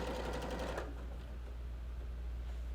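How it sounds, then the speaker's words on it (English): A sewing machine stitches the end of a fabric scrunchie in a short burst of rapid mechanical clatter that stops after under a second, followed by quiet low hum and faint handling. "Now we're ready to sew the end of our scrunchie at the edge of the presser foot, or 3/8 on your machine."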